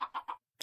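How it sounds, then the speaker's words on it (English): Minecraft chickens cluck three times in quick succession, short close bursts followed by a brief pause and one sharper final cluck. "I want to have the 24 chickens up here"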